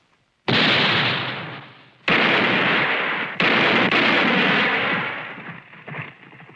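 Loud revolver shots ring out in a western shootout, several sharp bursts in quick succession, each followed by a long echoing decay, with the firing trailing off at the end.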